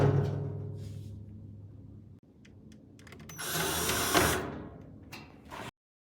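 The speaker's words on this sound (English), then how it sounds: "I'm going to screw them in." Screws being driven into the panel of a small package box during assembly, a near whirring burst of mechanical turning that rises and ends abruptly, alone with no talk.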